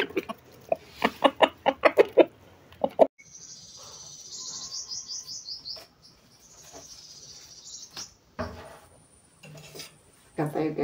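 Chickens being fed vegetable leaves outdoors on a sunny day: a burst of close, rhythmic clucking, then squawks and higher calls, with brief clattering and a voice speaking intermittently.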